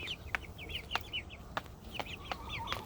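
Small farm birds call near a dish of mealworms, with quick repeated chirps and clucks and sharp pecking clicks, close by and fairly faint over steady outdoor background noise.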